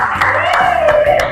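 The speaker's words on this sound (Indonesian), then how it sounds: "Tepuk tangan untuk kita semua." A class claps in a quick rhythmic pattern along with chanting voices, a few evenly spaced claps over sung, tonal speech, close and fairly loud.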